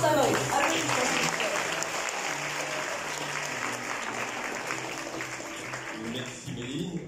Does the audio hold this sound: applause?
yes